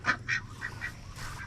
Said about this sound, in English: There's still ducks back here, too.